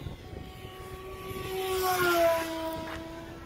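Durafly Me 163 radio-controlled model plane flying overhead, an electric motor whine rising in pitch and loudness as it passes close, then fading slightly away.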